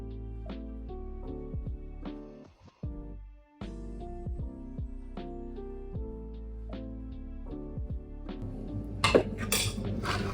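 Rice is served onto a plate in a kitchen, heard as a series of close clinks and scrapes of a spoon against dishes, separate taps at an irregular pace and a brief busier clatter near the end.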